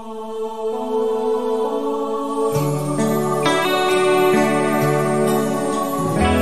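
A band plays a live cover of a Christmas song, with sustained keys that bring in fuller instruments and rhythmic hits about midway, full and steady, without talk.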